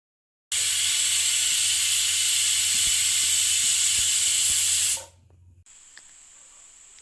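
A kitchen pressure cooker whistles as it releases steam, a loud steady hiss starting abruptly and holding for about four and a half seconds before cutting off, leaving a faint high tone and quiet background.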